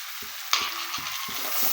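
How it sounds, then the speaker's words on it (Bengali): Ground spices such as turmeric and cumin frying in a pan, stirred in a steady rhythm of five soft scrapes over a constant hissing sizzle, close and fairly quiet, with no talk. "মশলাগুলো দেওয়ার পর একটু ভালোভাবে নাড়াচাড়া করে মিশিয়ে নিচ্ছি"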